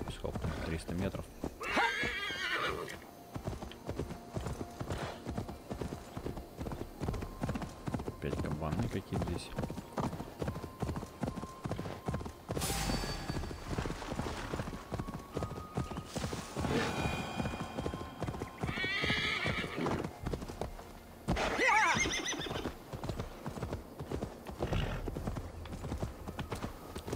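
A horse gallops in Assassin's Creed Valhalla, its rapid hoofbeats drumming steadily throughout, with several loud neighs and whinnies breaking in while someone talks over the action.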